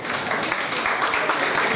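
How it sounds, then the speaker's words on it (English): Applause from a classroom audience at a higher education programme, a steady dense wash of clapping throughout without pause. "let's give her one round of applause"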